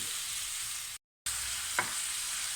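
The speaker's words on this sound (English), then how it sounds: "We're just going to fry this for a couple of minutes, just so they get nice and warm." Tofu and cauliflower frying in a pan, a steady bright sizzle close up, cut off by a short silent gap and then resuming, with one faint tap of a utensil.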